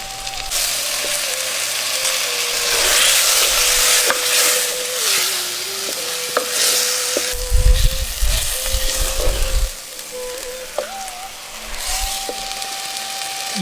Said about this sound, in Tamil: தக்காளி வதங்கினதும் 1/2 கிலோ சுத்தம் பண்ணி வச்சிருந்த கோழிக்கறியை சேர்த்துக்குவோம்.